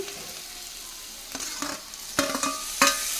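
Onions fry in a pan with a quiet sizzle, and a few scraping stirs grow louder toward the end, close and brief with no speech.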